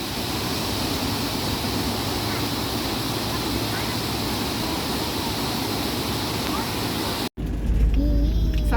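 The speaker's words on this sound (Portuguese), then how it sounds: "A gente tá por detrás dessa cachoeira." Waterfall heard from behind the falling water, a dense, loud, steady roar of pouring water that fills the scene, then cuts abruptly near the end to quieter ambience.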